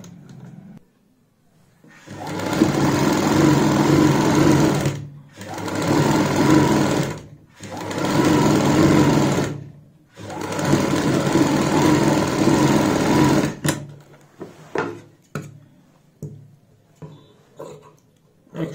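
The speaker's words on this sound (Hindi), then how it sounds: "अब यहाँ पे भी हमें एक पैर की सिलाई लगानी है ऊपर की साइड।" A sewing machine runs in three long bursts stitching a kurti sleeve along the top side, loud and close, then stops, leaving scattered small handling noises and taps.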